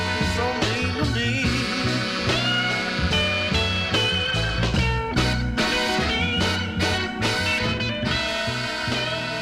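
Albert King's blues record "You Sure Drive a Hard Bargain" on the Stax label, a soul 45 spun on vinyl: a full band with punchy rhythmic hits and bass plays steadily and loud, with no talk.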